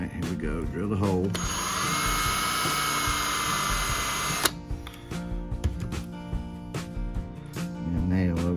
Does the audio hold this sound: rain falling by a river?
no